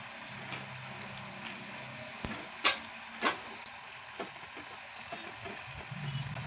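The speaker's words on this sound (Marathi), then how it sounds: "छान असे तळून घ्यायचे" Homemade snacks deep-frying in hot oil give a continuous bubbling sizzle, broken by several sharp clacks and taps as the pieces are stirred, with no talking.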